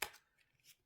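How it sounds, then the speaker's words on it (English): A deck of playing cards being shuffled by hand, heard as a crisp riffle burst at the start followed by a couple of softer flutters, close and quiet with no talking. "So shuffle a couple more times."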